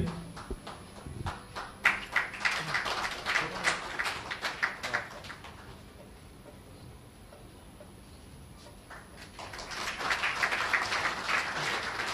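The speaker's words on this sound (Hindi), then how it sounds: "हमारे गौरव भाई के लिए तालियां" Seminar audience clapping in a hall, scattered uneven claps that swell, fade to near quiet midway, then build again near the end, fairly distant and soft.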